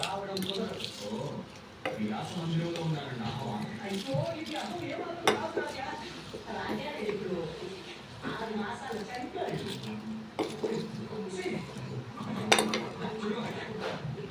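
Gooseberry pickle being mixed with tempering in a bowl, continuous squelchy stirring and scraping with occasional clinks of the spoon, heard under ongoing speech.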